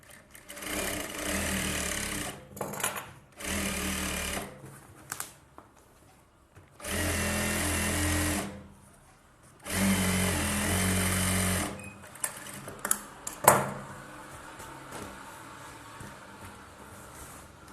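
A sewing machine runs stitching the lining edge of an Aari-work blouse, in several steady whirring bursts of a few seconds each, separated by pauses with faint handling noise, close and fairly loud.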